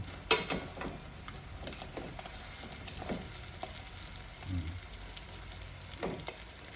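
Lumpia spring rolls fry quietly in hot oil, a faint continuous sizzle with occasional small pops and clinks from cooking utensils.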